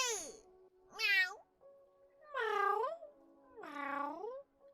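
People imitating a cat with four drawn-out, loud meows in a row, close up and with no other talk between them.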